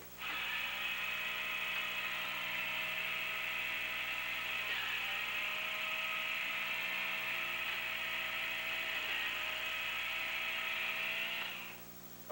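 A Sega Genesis console being disassembled, a small powered screwdriver whirring steadily for about eleven seconds while backing out a black screw, with a brief hitch midway and the motor cutting off at the end; faint and close, no talking.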